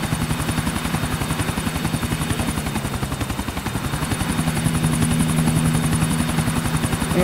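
A helicopter in the Grand Theft Auto IV video game gives off a loud, steady rotor thump with a constant engine whine, running without a break and with no talk over it.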